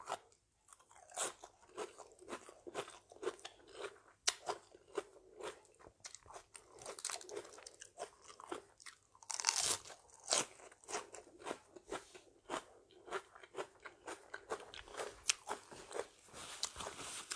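Crunchy pickled blue crab marinated in fish sauce is bitten and chewed close up, with repeated sharp cracks of shell and wet crunching in an irregular rhythm and a louder crackling burst midway.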